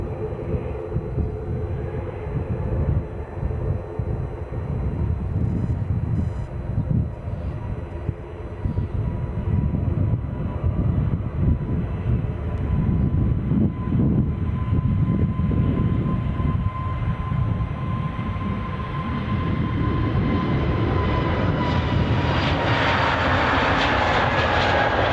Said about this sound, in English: we'll cut to the departing EasyJet flight to Birmingham. As soon as it starts rolling,